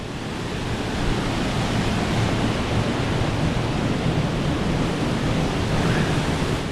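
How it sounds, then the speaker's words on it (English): Waterfall at Chinook Creek pouring into a pool, a steady, loud broadband rush of falling water that holds constant throughout, close to the microphone, with no voices. "another waterfall. This is one I didn't expect."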